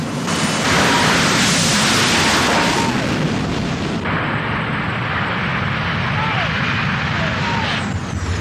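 A deafening, continuous jet car engine roar with a broad rushing blast that shifts partway through, loud and close.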